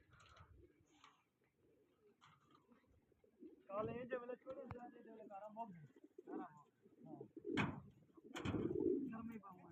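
Pigeons coo softly nearby in low, throaty, repeated calls, the cooing swelling and fading in overlapping bursts.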